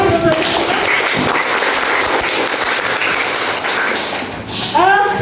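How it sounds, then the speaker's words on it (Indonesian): A classroom full of students claps together in dense, steady applause that fades slightly toward the end, with a voice speaking briefly at the start and finish. "mari kita tepuk tangan"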